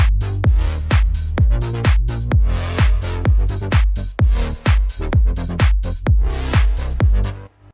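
Synth bass line in FL Studio with automated parameter changes, rhythmic low notes whose brightness swells and shifts from note to note, loud and prominent with no talking.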